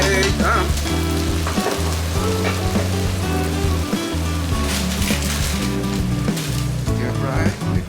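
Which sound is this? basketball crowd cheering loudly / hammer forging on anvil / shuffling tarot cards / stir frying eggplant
stir frying eggplant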